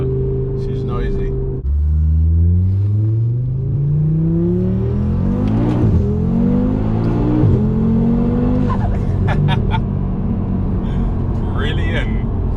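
A VW Golf R fitted with an Audi RS3 five-cylinder engine making 640bhp revs hard through rising gear sweeps, loud and close, with a fluttering exhaust between pulls and people talking over it.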